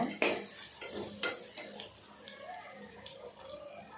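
A spoon stirring ginger garlic paste as it sautés in a pot for chicken biryani, with metal scrapes and knocks against the pot over a soft sizzle; no talk.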